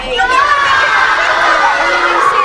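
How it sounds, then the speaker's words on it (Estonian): A crowd at a school performance for young pupils cheers and shouts loudly and continuously, with children's voices rising above the steady roar of applause. "Ehk siis neile suur aplaus"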